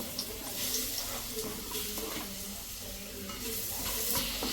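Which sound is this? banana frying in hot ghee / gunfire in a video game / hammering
banana frying in hot ghee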